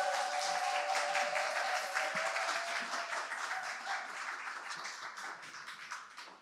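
An audience claps steadily, a dense wash of applause that slowly fades over several seconds.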